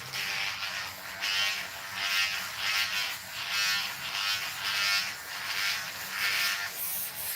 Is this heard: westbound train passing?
no